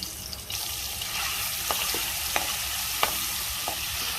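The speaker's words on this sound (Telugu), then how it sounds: "ఇప్పుడు ఉప్పు కారం కలుపుకున్న గుడ్డుని లైట్గా ఫ్రై చేసుకోవాలి" Eggs coated in salt and chili powder fry in a pan of hot oil with a steady bright sizzle, broken by a few sharp pops and crackles, close and loud with no voices.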